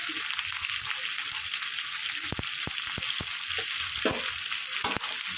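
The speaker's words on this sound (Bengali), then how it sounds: "এবার আমি একটু নাড়ানাড়ি করে নিই" Chicken with capsicum and onion being stirred in a kadai, a steady bright sizzle with repeated sharp scraping strokes of the spoon against the pan, close and alone with no talk.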